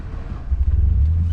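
An Opel Omega's engine catches about halfway through and settles into a steady, deep idling rumble, close and fairly loud, with no talk over it.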